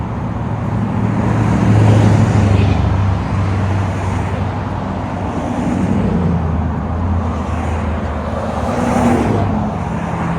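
2022 Chevy Silverado LT with a 5.3L V8 and Borla ATAK exhaust, running at a steady low rumble with a gentle swell around the middle, loud and close, with no talking.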